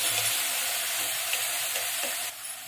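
Half a kilo of mutton sizzles in a heated pressure cooker with a steady, close, bright hiss of frying and soft stirring crackles, easing slightly near the end.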